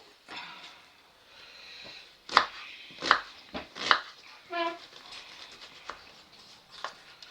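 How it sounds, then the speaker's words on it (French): A knife chops onions into small pieces on a board in a home kitchen, a few sharp, distinct cuts spaced about a second apart, fairly close, with quiet murmuring and household sounds between them. "donc on coupe les oignons de cette façon-là"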